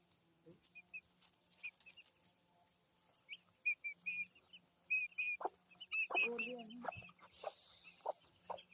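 Chickens cluck in short, scattered bursts with a few higher chirps, fairly faint and intermittent against a quiet background.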